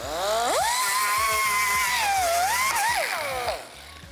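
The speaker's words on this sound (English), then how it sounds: "So we're gonna use angle grinder with some 180 grit, 120 grit. And we're gonna clean up all the spot welds" An angle grinder fitted with 120-180 grit grinding down spot welds on the steel rear quarter panel of an R34 Skyline, a loud continuous whine rising in pitch, holding steady, then dipping and rising again under load.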